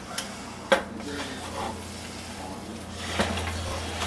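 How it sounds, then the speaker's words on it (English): A rounded-edge angled spoon stirs eggs in a pan, scraping the pan's edge with a few soft, close scrapes and clinks over a quiet kitchen background. "as we stir this in, you can see the eggs are starting to get done"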